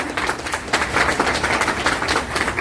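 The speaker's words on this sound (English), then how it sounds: "a big round of applause for our DPS, Mr. Harpreet and Ms. Nikki" A round of applause at a camp closing ceremony, dense continuous clapping from a crowd, steady and fairly loud throughout with no talk over it.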